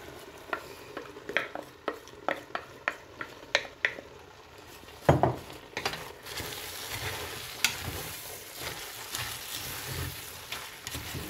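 Onion cooking in a pan for Moroccan rfissa, with clinking utensil stirs at a quick, regular pace followed by a soft, steady sizzle and scraping.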